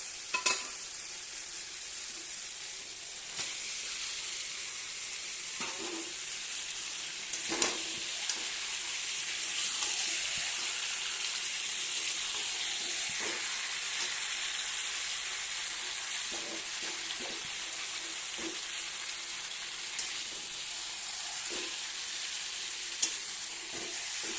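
Meat sizzles steadily in a spiced paste with green chillies in a pan for a home-style meat and potato curry, a continuous frying hiss broken by scattered scraping stir clicks.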